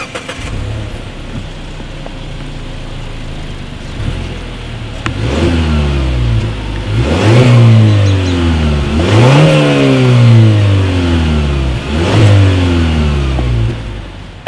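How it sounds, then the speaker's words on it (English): A 2018 Mazda Mazda6 idles with a low exhaust rumble, then revs sharply several times in a row, each rev surging loud and dropping back. "here is that exhaust clip."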